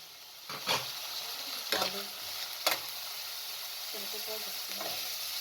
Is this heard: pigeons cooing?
no